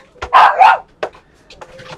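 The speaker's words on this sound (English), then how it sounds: "Apologize for the dogs barking." Dogs barking indoors at someone arriving home: a loud close double bark followed by a single bark and a few fainter yips.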